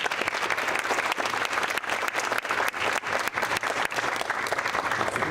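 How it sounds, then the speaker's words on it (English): Audience applause at a community talk on zero waste and recycling, dense sustained clapping from a full room, loud and continuous with a few sharper individual claps standing out. "Let's give them a round of applause."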